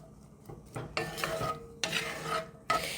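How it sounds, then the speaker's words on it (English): Onions and celery sauté in a skillet for a pot pie, with scraping stir strokes and clinks of a utensil against the pan over a low sizzle, several distinct bursts of stirring standing out clearly. "we're just going to saute the onions and celery till they are soft"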